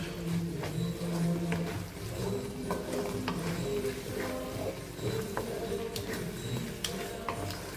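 Brinjal rice mixed with spice powder is stirred in a pan, giving a steady scraping and shuffling with faint sizzle and light ticks of the spoon against metal, continuous and close throughout.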